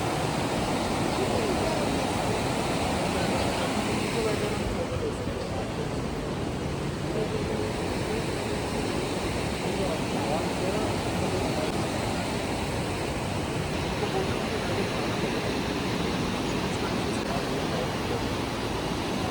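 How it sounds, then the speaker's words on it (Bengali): Snoqualmie Falls, with water volume raised after recent flooding, heard as a steady, loud broadband roar of falling water that runs unbroken throughout, with no talk. "ঝর্ণা যে জলটা পড়ছে এখান থেকে যাচ্ছে"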